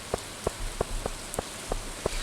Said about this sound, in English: It's raining, it's dark, I don't know where I'm going